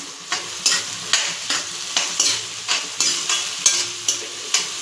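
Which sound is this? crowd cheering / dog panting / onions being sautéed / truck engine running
onions being sautéed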